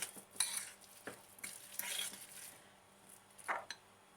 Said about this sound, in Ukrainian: І перемішую з пудрою.